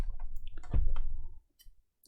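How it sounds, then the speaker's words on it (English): A plastic part on a PS4 Slim snaps into place with a single firm click amid soft handling noise, followed by quiet. "that's just gone on with a nice convincing click"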